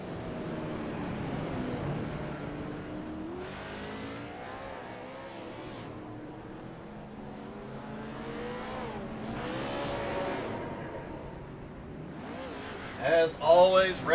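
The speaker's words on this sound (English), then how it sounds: "Austin Edwards going to do a burnout, probably give us a little show as he heads for the start-finish line" A Whelen Modified race car at Southern National does a burnout, engine revving up and down in several surges at a distance before a sharp burst of tire squeal near the end, under steady commentator talk.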